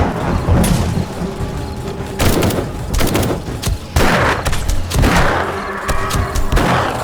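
Turret gunfire in 7 Days to Die (Alpha 21) during a blood moon night defended with gun turrets: dense rapid bursts of shots and heavy booms overlapping continuously, loud and close, with no one talking.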